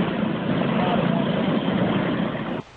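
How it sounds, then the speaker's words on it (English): A large aircraft engine running on the ground to generate hurricane-force winds for testing whether buildings can withstand them, a loud, steady broadband roar for over two seconds before it drops off abruptly near the end. "That noise is from this aircraft engine."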